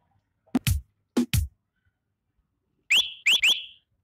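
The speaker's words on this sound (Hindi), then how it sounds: "ये देखिए मैं सीटी ले लेता हूँ" A whistle sample in FL Studio Mobile for a DJ-style song remix plays three quick, bright, rising toots in a row after a few punchy drum hits, close and dry.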